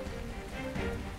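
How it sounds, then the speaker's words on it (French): Heavy rain pours down in a steady, dense hiss that holds evenly throughout with no voices over it. "Il pleut vraiment beaucoup"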